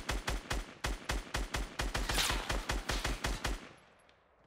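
Rapid automatic gunfire in a Fortnite match aimed at an enemy base, a fast regular burst of loud close shots lasting several seconds before cutting off and fading.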